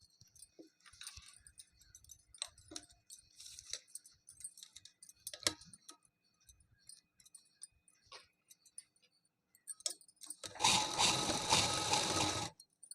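A sewing machine stitches the hem of palazzo pants fabric, starting with scattered ticks and clicks, then running in a loud, dense burst of continuous stitching near the end, close by with no talking.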